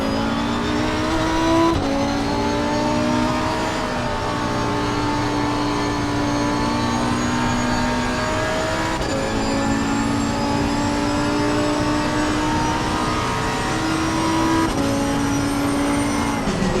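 A Porsche race car engine in Assetto Corsa Competizione drones steadily through a lap, pitch rising and dipping with gear changes and throttle, loud and continuous with no talk.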